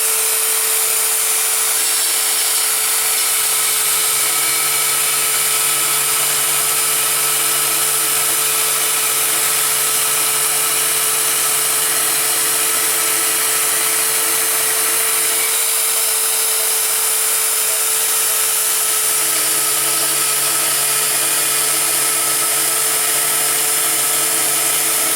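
A power tool cuts a steel insert for a diamond weld-in job, giving a steady, continuous high-pitched grinding whine that holds unbroken for about 25 seconds with no talking.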